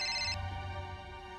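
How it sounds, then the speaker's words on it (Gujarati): A telephone ringtone rings in a tonal burst for the first third of a second, then stops, leaving only a low hum in an indoor domestic setting. "અત્યારે કોણ ફોન કરે છે આ કામ ટાણે?"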